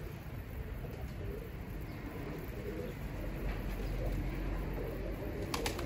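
Pet pigeons coo softly near their coop, the low murmuring calls mixed into a steady outdoor background hiss with no one talking.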